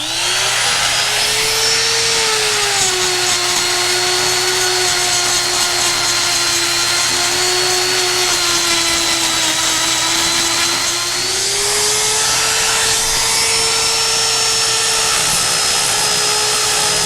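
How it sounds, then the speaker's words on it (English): A small die grinder cuts down a weld on an 18-inch Ridgid pipe wrench, a steady high whine that holds loud and close for the whole stretch, dipping briefly in pitch midway before climbing back. "I'm gonna try this little die grinder, see if I can get down this weld a little bit, throw some sparks."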